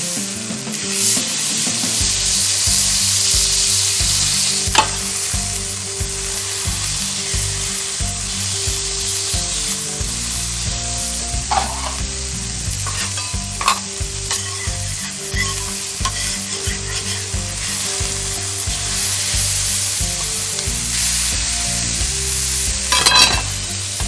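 Wagyu brisket smashburger patties fry in hot oil on a grill, giving a loud, sustained sizzle with spitting crackles, metallic scraping from a heated grill press and spatula, and a few sharp clanks.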